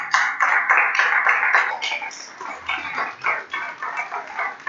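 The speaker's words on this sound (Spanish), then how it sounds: "¿Cuántos pueden dar un fuerte aplauso al Señor?" A church congregation gives a strong round of applause, with dense, steady clapping from many hands that fills the space and gradually loosens into scattered claps, with no voices over it.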